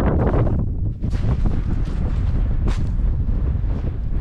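Strong gusting wind buffets an outdoor microphone on the beach at Dungeness during a sea fishing match, giving a loud, continuous roar with rushing surges and no talking.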